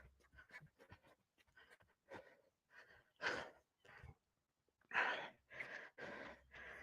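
Heavy breathing after a four-cone drill done at home, a series of close, rough breaths and sighing exhales in an uneven rhythm, some louder gasps standing out.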